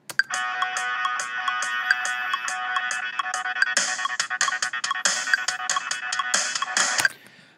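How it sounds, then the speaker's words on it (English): A steady metronome click track at 140 BPM in Ableton Live, heard as fast regular clicks with periodic accented beats. It plays over the bright music of an imported track, with no voices. "And I'm also going to turn the click track on right over here."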